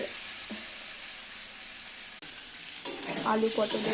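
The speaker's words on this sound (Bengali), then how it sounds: "তরকারিগুলো ভাজছি তো আলু পটল" Steady sizzling of potatoes and pointed gourd frying in a pan, a constant hiss with occasional stirring clatter and a brief break partway through.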